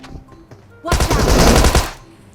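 Automatic gunfire in PUBG Mobile, one loud sustained burst of rapid shots lasting about a second, close and harsh, preceded and followed by quieter background game sounds.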